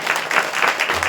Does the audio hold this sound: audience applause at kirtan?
yes